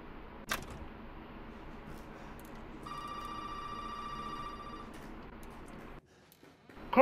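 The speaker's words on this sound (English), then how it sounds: "Phone ringing?" A telephone rings in the horror video game Resident Evil 7: one steady electronic ring lasting about two seconds, heard over a low rumbling ambience, with a sharp click just before it.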